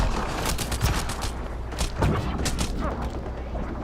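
Pistol fire in the video game Mass Effect: Andromeda, a dense burst of repeated sharp shots and booms from combat, loud and continuous, with scattered impacts throughout.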